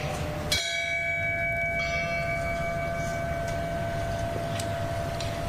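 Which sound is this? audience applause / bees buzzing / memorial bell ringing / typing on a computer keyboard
memorial bell ringing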